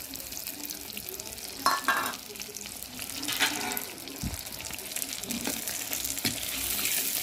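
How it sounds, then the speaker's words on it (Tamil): Ground tomato paste added to sautéed onions in a pan for onion kara kuzhambu, a steady close sizzle with a few stirring scrapes and clinks. "அடுத்து 3 தக்காளியை அரைச்சது அந்த விழுதை சேர்த்துக்கிறேன்."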